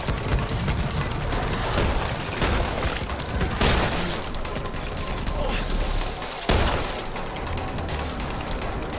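Dense gunfire from the sniper shotgun in the zombie shooter Back 4 Blood, sharp blasts and rapid overlapping shots over a constant loud chaotic battle din, with a voice heard now and then.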